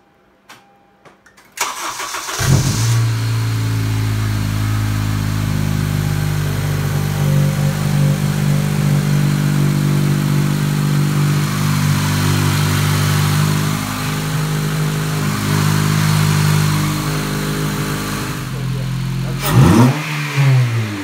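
A 9th-generation Honda Civic Si with a K&N short ram intake cranks and fires up, then idles loudly with rising and falling revs and an intake roar, ending with a sharp rev and cutoff.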